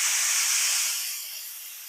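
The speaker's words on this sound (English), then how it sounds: "now we're gonna do the quick release. So I'll release the steam." Steam hisses loudly out of an Instant Pot's valve during a quick pressure release cooking plant-based spaghetti, a steady close broadband rush that slowly eases in strength.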